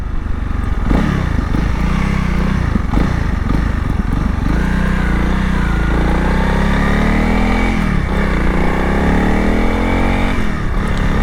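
A Honda CRF300L dual-sport motorcycle engine under way, a loud continuous single-cylinder drone that rises and falls as the rider shifts and opens the throttle, heard close from the bike.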